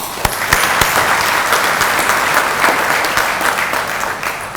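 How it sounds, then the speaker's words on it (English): A university audience breaks into sustained, steady applause after a speech, loud and close, with a few sharper individual claps standing out near the start and no talking over it. "Let us give him a big round of applause."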